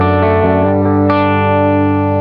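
A sustained, distorted electric guitar chord through a Bad Cat Hot Cat tube amp, with delay and reverb before the amp, rings out with a trailing wash of echo, steady and loud with no voices.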